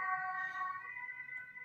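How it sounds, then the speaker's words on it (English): An ambulance siren outside wails in long, steady tones, faint and at a distance, holding throughout the short stretch with no speech over it. "an ambulance, which is sad news, probably"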